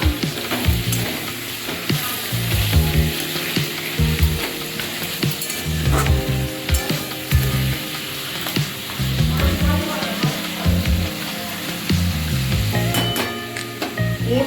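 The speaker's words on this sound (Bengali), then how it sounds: "এই ফোড়ন দিয়ে একটু নেড়ে নিচ্ছি" Two bay leaves and a dried red chili crackle and sizzle in hot oil as a tempering, stirred with a utensil that clinks and scrapes in an irregular rhythm over a close, continuous fry.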